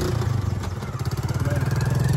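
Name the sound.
vehicle engine as it moves forward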